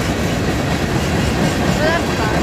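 A freight train rolls past close by in Folkston, Georgia, with a loud continuous rumble, wheel clatter and brief high squeals near the end.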